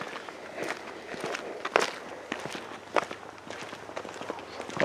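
Footsteps crunch along outdoors at Garden of the Gods in Colorado Springs at a steady walking pace, fairly quiet, with faint rustling between steps and no talking.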